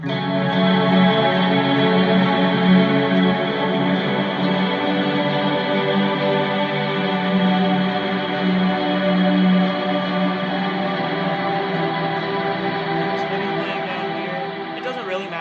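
Electric guitar chords ring out in a continuous wash, thick with chorus, distortion and echo, played steadily and loud with no lead line.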